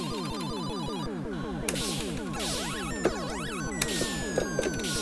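Electronic arcade game attract-mode sounds from Galaxian-era machines play continuously, with a rapid repeating rhythmic pulse, chirping swoops and bleeps layered together, steady and moderately loud with no talking.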